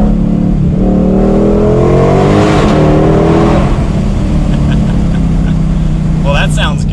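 2020-2023 Ford Mustang Shelby GT500 accelerating through an underpass: a loud, close exhaust roar rising in pitch through gears, echoing, then settling into a steady cruise drone.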